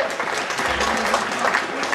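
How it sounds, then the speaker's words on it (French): An audience applauds in a hall, dense continuous clapping at a fairly loud level with a few faint voices mixed in. "Allez, vous pouvez les applaudir"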